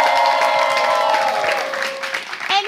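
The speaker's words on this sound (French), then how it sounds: "Est-ce que le public peut se faire du bruit?" A live game-show studio audience cheers and shouts, a loud, steady wash of voices with rising whoops that carries on without a break and swells again near the end.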